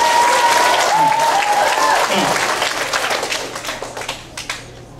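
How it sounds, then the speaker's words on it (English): An elementary school assembly audience gives a loud round of applause for a guest. The dense clapping holds steady, then thins and fades toward the end, with voices faintly beneath it. "Everybody give him a round of applause."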